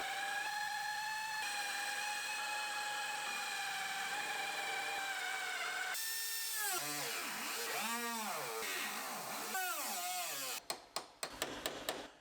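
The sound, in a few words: power drill drilling out welds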